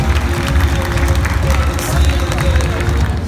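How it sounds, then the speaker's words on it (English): Audience applause at an event in the SM Sky Dome, a loud continuous wash of clapping and crowd noise mixed with cheering and hubbub. "let's all give her a big round of applause, everybody!"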